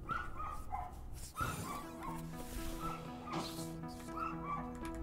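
Repeated dog barks and yips from the video game Starbound, sounding in short bursts over a steady bed of game music and ambience, with a brief whimpering cry between barks.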